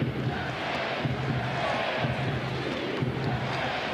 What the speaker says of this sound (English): The crowd certainly getting involved now.